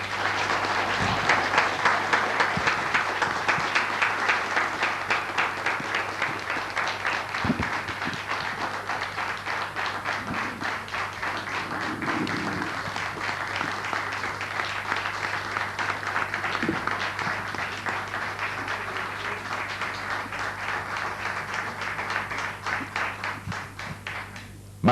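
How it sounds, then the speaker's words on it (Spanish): Sustained audience applause fills a hall at a tribute ceremony honoring playwright Roberto "Tito" Cossa, steady rhythmic clapping from many hands lasting the whole stretch with a faint low hum beneath. "Más que merecido el aplauso a estas palabras escritas y dichas desde el corazón."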